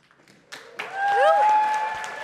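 Audience applause breaks out at a musical theater show, rising from a quiet start into sustained clapping that swells and holds, with singing or musical tones ringing over it.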